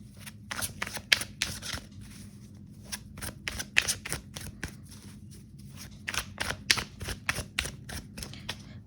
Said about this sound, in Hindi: पहले सारे कार्ड्स निकाल लेते, फिर हम एक एक करके देखेंगे।